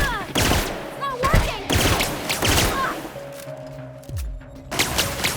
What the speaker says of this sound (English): Actually, it's all just a bunch of energy weapons.